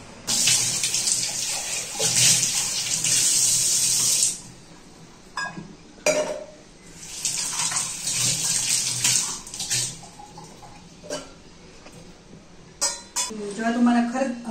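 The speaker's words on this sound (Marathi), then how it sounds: "आता हे मी साध्या पाण्याने धुवून घेते" Copper and brass utensils rinsed under running tap water at home. Loud gushing bursts of water alternate with pauses, with small clinks of metal vessels and a voice in between.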